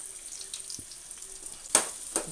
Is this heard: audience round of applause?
no